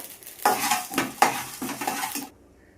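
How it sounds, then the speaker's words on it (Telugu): Drumsticks tossed into a pan for a village-style prawn curry, with several clattering scrapes and knocks of a spoon stirring against the metal pan, close and fairly loud, ending in quiet. "అందుకని మునక్కాయలు అయితే వేస్తున్నా."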